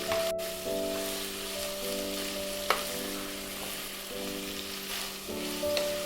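Three medium onions, finely sliced, fry steadily in hot oil in a pan, giving a continuous close sizzle with occasional stirring clinks and a soft scrape, no voices.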